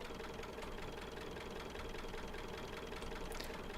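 A tractor engine in the Farming Simulator 19 game runs at a steady low idle, a continuous knocking rumble heard alone without any talk.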